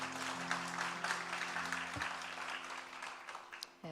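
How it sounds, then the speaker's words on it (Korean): Congregation at a Wednesday women's worship service in a church bursts into sustained applause after a prayer, a dense wash of clapping over steady organ-like keyboard tones that fades slightly before a final louder clap. "하나님께 영광의 박수 올려드리겠습니다."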